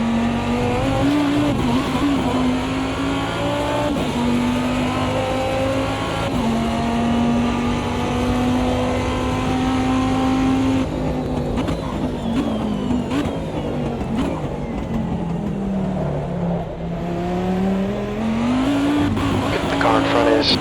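The Viper GTS-R race car in the racing game Automobilista 2, set in a 2005 ALMS season, roars steadily with its engine rising and falling through gear changes. Other cars' engines join in, and a voice talks over the racing.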